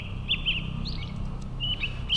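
A bird squawks in the Entropia Universe video game, in the Calypso starting zone. Loud, bright repeated chirps arrive in two short clusters over a steady low ambient hum.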